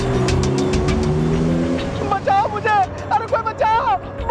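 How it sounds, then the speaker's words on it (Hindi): A driverless car approaches with a steady engine hum that grows and shifts, loud and close, and people then talk excitedly over it. "अरे ये गाड़ी तो और भी नजदीक आते जा रही है और बिना ड्राइवर के गाड़ी कैसे चल रही है।"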